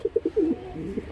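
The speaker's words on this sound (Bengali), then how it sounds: "বিশাল বড় সাইজের এক জোড়া চকো জোড়া কবুতর" A pair of large choco-coloured racing pigeons cooing, giving soft, close, repeated low coos in a short rhythmic series.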